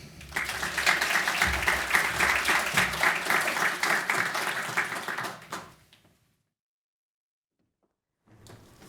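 A conference audience applauds to welcome a speaker, a loud, dense round of clapping that fades out and falls to near silence before a voice begins.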